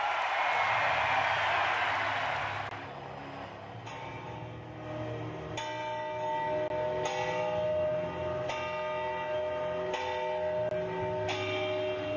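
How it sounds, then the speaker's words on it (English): The Ohio State victory bell rings at Ohio Stadium after a Penn State game. Crowd roar opens the clip, then the bell strikes again and again at a slow, steady pace, each clang ringing out over the fading cheers. "the bell's still ringing"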